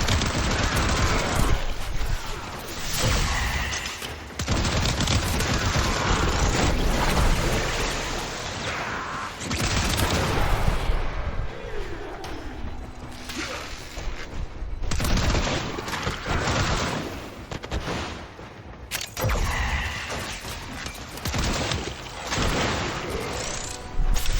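Rapid, sustained gunfire and booming weapon blasts from the video game Warframe, loud and dense with near-continuous bursts and brief lulls, layered over game effects.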